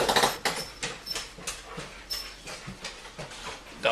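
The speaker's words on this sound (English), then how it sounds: "Dogs." Dogs make repeated short whimpering and yelping sounds, close and moderately loud, in an uneven rhythm of separate bursts with brief pauses between them.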